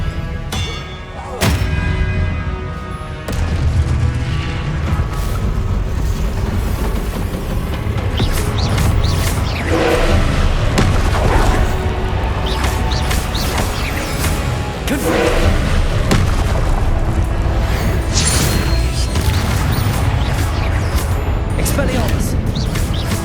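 Spell blasts from Hogwarts Legacy on PS5 sound as loud, repeated booming thuds and crashing impacts over a continuous rumbling game soundscape, with energetic combat effects throughout.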